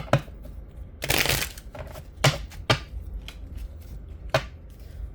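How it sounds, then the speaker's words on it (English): A tarot card deck riffled and shuffled in several quick bursts, crisp papery flutters with short pauses between, close and clear with no talking. "give 3 shuffles here in the deck"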